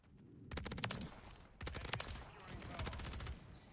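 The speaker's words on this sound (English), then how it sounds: "He's pre-firing me with an LMG?" Light machine gun fire in Modern Warfare 3 crackles in two rapid bursts, the first short and the second longer and sustained, loud and close amid game ambience.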